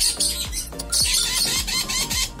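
A small pet bird chirps in quick, bright bursts, a run of short tweets and squeaky calls close to the microphone.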